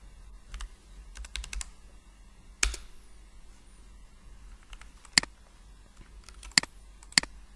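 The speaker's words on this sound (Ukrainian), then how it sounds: "натискаючи на клавіатурі X пишете 0, а натискаючи Y, пишете ту відстань, яка вам потрібна" Keys clicking on a computer keyboard during an Archicad drawing session, sparse irregular taps and short bursts with a few sharper louder strokes, close and alone without talk.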